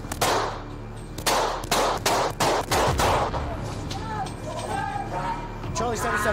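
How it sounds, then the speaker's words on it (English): A volley of gunshots rings out during a police confrontation with a man told to get out of a car, several loud sharp cracks in quick succession, followed by shouting and radio chatter. "shots fired, shots fired"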